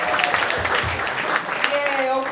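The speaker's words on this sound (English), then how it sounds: "Can I have a round of applause for Oprah" Audience applause at a live comedy show, a dense, steady burst of clapping with some cheering throughout the short moment.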